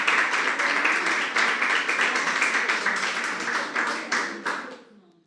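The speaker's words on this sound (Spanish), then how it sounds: "Un aplauso especial." A church congregation gives sustained applause during a sermon, dense and fairly loud clapping with a slightly rhythmic pulse before it tapers off and stops near the end.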